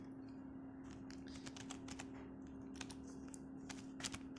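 Quiet, steady typing on a computer keyboard, a run of soft, irregular key clicks over a constant electrical hum, with no talking.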